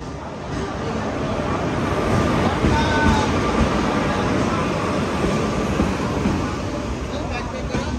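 Steady rumbling roar of a moving passenger train heard from inside the carriage, continuous broadband noise with faint voices mixed in.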